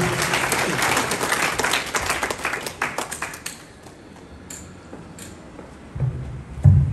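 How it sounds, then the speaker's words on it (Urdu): An audience claps in a crowded hall at a senior UK judge's visit to Azad Kashmir, a dense burst of applause that thins out and fades, ending with a few scattered claps and thumps. "سب سے پہلے میں آپ دوستوں کا ان کے لیے ایک متکلف تالیوں کا آپ مظاہرہ کریں"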